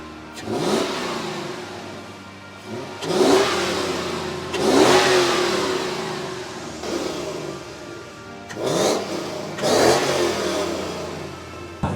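A bakkie (pickup truck) engine revs up hard several times, each burst of acceleration rising and falling back, loud and close with no talking.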